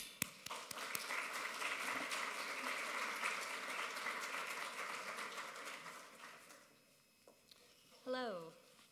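A lecture audience claps steadily to welcome a speaker to an opening talk on Renaissance Italian marriage chests. The dense applause gradually thins and fades out, and a single voice begins speaking at the very end.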